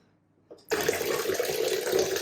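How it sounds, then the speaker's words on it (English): A tap turns on after a short quiet pause and water pours steadily into a filling sink, close and continuous to the end. "We're going to let the sink fill up"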